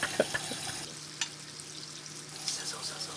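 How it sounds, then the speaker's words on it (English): Halved bacon strips sizzle in hot oil in a pan, a soft steady crackle with a few sharper pops near the start, fairly close and heard alone without talk. "Open the bacon and cut it in half. Add to the hot oil."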